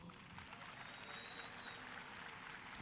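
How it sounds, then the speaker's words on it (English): A large audience at a university new student convocation applauds steadily, a dense wash of clapping that holds evenly throughout without any voices standing out. "Give them a round of applause."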